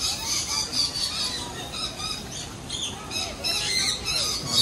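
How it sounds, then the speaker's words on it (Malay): Parrots in an aviary bird area squawking and squealing repeatedly, a busy overlapping chorus of harsh calls at moderate distance with faint speech underneath. "Ada parrot."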